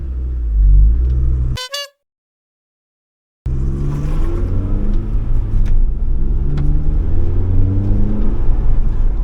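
A 2011 Scion tC with an EB60 transmission drives along, its engine a steady close rumble throughout, broken near the start by a short melodic horn-like chime and a couple of seconds of dead silence before the road drone resumes.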